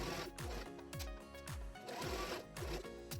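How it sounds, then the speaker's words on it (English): A sewing machine stitches fabric in short bursts, its motor whirring and needle clattering in a steady rhythm, close and fairly loud. "We're going to take it to our sewing machine and we're going to sew around the top layer"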